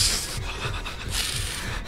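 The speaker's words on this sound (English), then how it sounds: "I'm breathing really heavily." Rapid, heavy panting breaths of a frightened character in Outlast: Whistleblower, close and rhythmic, with airy rasping inhales and exhales repeating over a couple of seconds.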